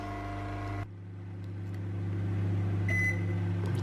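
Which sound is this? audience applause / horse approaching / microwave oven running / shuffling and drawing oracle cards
microwave oven running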